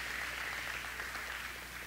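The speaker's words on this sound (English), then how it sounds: "Round of applause." A banquet crowd gives a brief burst of applause at a 20th anniversary celebration, a soft steady patter of clapping that fades slightly over two seconds with no talking.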